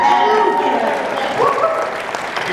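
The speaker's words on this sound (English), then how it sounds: "That's how we applaud for them." An audience at a 7th Heaven convention panel in Hartford applauds the interpreters, a loud, sustained burst of clapping mixed with crowd noise and voices throughout.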